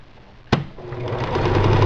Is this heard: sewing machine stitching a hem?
yes